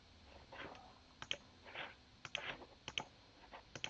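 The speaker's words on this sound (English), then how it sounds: "type that phrase using the keyboard" Typing on a computer keyboard: quick irregular clicks and taps of keys, fairly close and moderately soft, spread across a few seconds with no voices.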